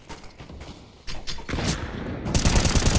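Gunfire in GTA 5, with scattered clicks and mechanical sounds giving way to dense, rapid bursts of shots that grow louder toward the end.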